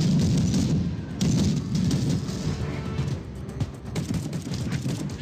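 A one-handed gun fires in Warhammer 40,000: Battle Sister, a VR shooter, in a dense, roaring stream of rapid shots that swells and eases in loud waves, with no pause throughout.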